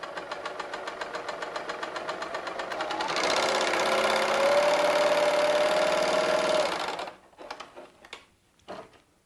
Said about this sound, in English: So as I stitch, because it's set at 1/4 of an inch, I'm simply guiding my fabric in